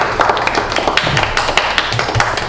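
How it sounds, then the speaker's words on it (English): A Toastmasters club audience applauds at a meeting: dense, steady clapping from many hands, close and loud throughout, with no talk over it. "Please give a round of applause for Jane."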